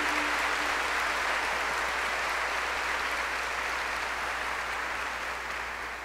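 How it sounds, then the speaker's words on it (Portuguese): Steady, sustained applause from a church congregation at a papal legate's Mass, greeting the indigenous representatives present; dense clapping holds evenly throughout and tapers slightly at the end. "os representantes dos indígenas que estão aqui conosco, para os quais eu pediria uma salva de palmas"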